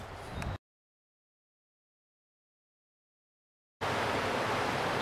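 Rushing water of a salmon chute on the Esva river in Asturias, a dense broadband roar that drops out briefly to silence and then returns loud and steady.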